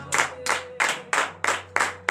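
A congregation at a morning prayer service claps in unison, seven sharp rhythmic bursts of many hands at a steady beat, close and loud over a low sustained hum. No words are spoken.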